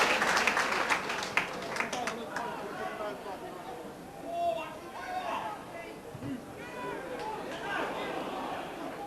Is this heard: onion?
no